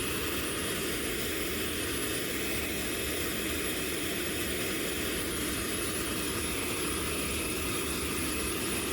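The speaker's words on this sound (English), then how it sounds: "Fuel's on, starter's engaged." An aircraft turbojet engine mounted in a Pontiac G8 road car spins up during a static start attempt, giving a steady, loud broadband roar with a constant high whine and no talk over it.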